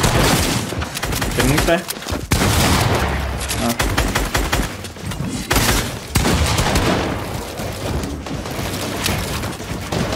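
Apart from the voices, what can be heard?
gunfire in the video game Fortnite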